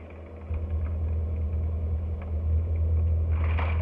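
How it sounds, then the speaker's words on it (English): Loud, steady low rumble of a car cabin while driving, a constant engine drone with road noise filling the space, no voices. "this damn car is so loud"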